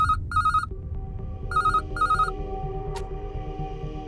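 A telephone rings for an incoming call with repeated bright electronic trills in short bursts, sounding over a low background hum and ambience with no talking.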